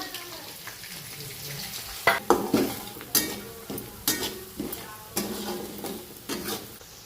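Spices and onion sizzle in a hot kadhai with repeated scraping and stirring strokes, a steady hiss underneath and sharper clatters every second or so.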